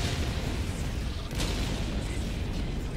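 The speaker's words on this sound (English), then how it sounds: "All I'm hearing is massive explosions" Explosions and artillery fire in the video game Helldivers 2, a dense, continuous roar of rumbling blasts with one sharper burst standing out midway.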